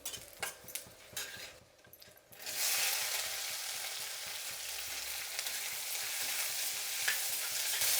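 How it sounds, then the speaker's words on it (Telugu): Onions frying in hot oil with mustard seeds, cumin and dried red chillies for a sambar tempering, starting with stirring and scraping in the pan, then a loud, steady, close sizzle. "స్టవ్ మీద ఇంకొక కళాయి పెట్టుకొని కొద్దిగా ఆయిల్, ఆవాలు, జీలకర్ర, ఆవాలు అనేది బాగా చిట్లిందండి."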